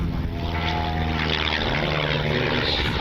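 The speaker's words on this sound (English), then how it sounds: "One of the best maneuvers you can do, the old-fashioned roll on takeoff." A propeller airplane doing a roll on takeoff at the 2026 Columbus Air Show, its engine a loud, steady, close drone that holds for the whole stretch.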